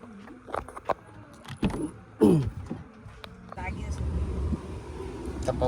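A car parked in a hushed village at night is unlocked with its key: a jangle of keys, several sharp mechanical clicks and clunks, then a low rumble of the car that grows louder toward the end, with voices talking over it.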